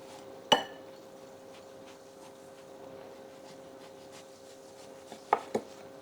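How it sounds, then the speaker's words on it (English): A knife trims the thick spines off cabbage leaves in a quiet kitchen: one sharp cut against a board, a long pause, then a quick cluster of two or three more cuts. "use a knife to trim off the thick spines of the cabbage leaves"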